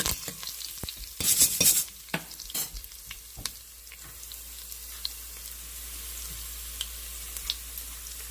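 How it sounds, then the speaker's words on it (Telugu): Crushed garlic sizzling in hot oil for a pumpkin sambar tempering, with sharp stirring clinks and a crackle early on, then a soft steady fry for the rest. "వెల్లుల్లి దంచి పెట్టుకున్నాం కదా అది వేసాను"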